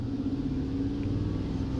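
Steady low engine rumble from a 2014 GMC Yukon XL's 6.2L V8, held at raised RPM with a P0101 MAF sensor performance fault, close and continuous with no voices.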